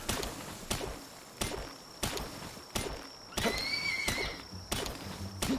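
A horse in the video game Palworld gives several loud, rhythmic neighs and snorts, with clip-clop hoof thuds at a regular beat and a brief whinny partway through.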